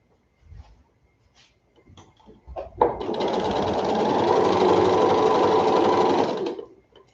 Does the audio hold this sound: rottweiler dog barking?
no